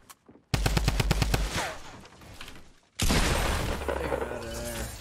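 Minigun firing in the video game Fortnite Battle Royale, a loud rapid stream of shots cutting in abruptly, pausing briefly, then resuming in a second dense burst with crashing impacts.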